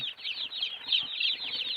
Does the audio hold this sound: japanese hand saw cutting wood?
no